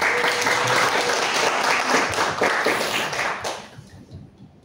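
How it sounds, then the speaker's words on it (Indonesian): Applause from an audience at a youth ambassador finalist event in Bengkulu, a dense burst of clapping that holds steady and then thins out and fades over its last second. "tepuk tangan sekali lagi buat Yola"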